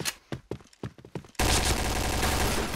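Loud, dense bursts of gunfire from the first-person shooter Point Blank, a few sharp separate shots and then a continuous barrage with no talking.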